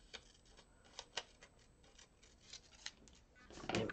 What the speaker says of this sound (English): it's probably faster than me trying to cut this out